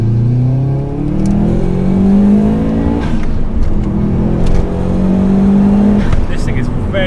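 A Subaru Impreza P1 accelerates hard with its antilag system engaged, engine notes rising through the gears with sharp pops and crackles between shifts, loud and close, while someone talks over the engine.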